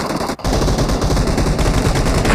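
Gunfire in the battle royale game BGMI (PUBG), a loud, dense automatic burst rattling continuously for over two seconds after a very brief gap.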